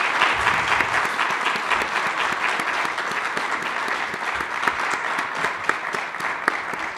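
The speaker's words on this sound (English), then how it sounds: "I would like to first make sure that we give a round of applause to these 4 candidates for joining us today." A crowd at a student-led candidates' forum gives a round of applause for four candidates, steady dense clapping sustained for about seven seconds with no talk over it.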